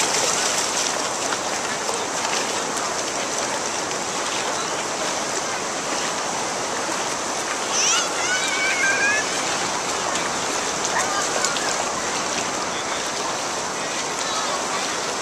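Big ocean waves wash continuously at a San Diego beach, a loud broad roar of surf mixed with wind buffeting, with a faint voice briefly audible in the middle.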